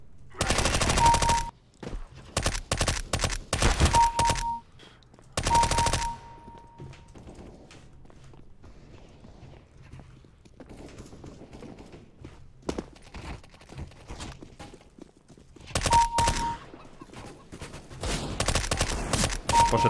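Automatic MP5 gunfire in a video game deathmatch, loud rapid bursts spaced apart with quieter game sounds and footsteps between them, no talking.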